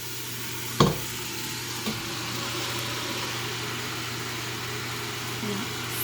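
Red cabbage and apples sizzling in hot oil in a pan, a steady frying hiss throughout, with one sharp clank of a utensil near the start and a fainter knock later.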